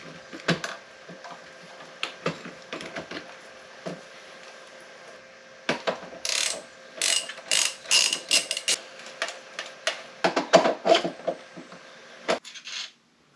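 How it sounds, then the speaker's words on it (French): A ratchet undoes the bolt that locks the steering on a Ténéré 700 motorcycle, giving bursts of quick clicking strokes, close and fairly quiet, with pauses between. "on va défaire le boulon qui bloque la direction"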